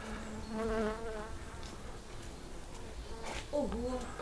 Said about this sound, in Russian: вот они спокойные пчелы.